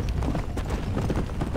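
Horse hooves clip-clop quickly and steadily in the Western video game Red Dead Redemption on PC, a loud, close galloping rhythm throughout.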